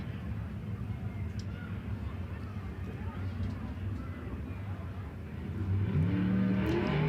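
High Limit sprint cars idle and rumble on the Tulare Thunderbowl Raceway speedway during qualifying, with a steady low engine drone that swells louder near the end as the cars roll out.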